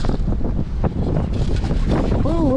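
Strong early-spring wind buffets the microphone beside a lake during bobber fishing, loud rumbling gusts close and continuous, with a voice briefly heard under it.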